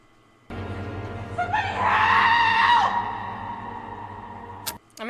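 A woman screams in The Nun II horror film: a loud, sustained, wavering shriek that rises sharply, holds for over a second and fades, set over a low, droning horror score.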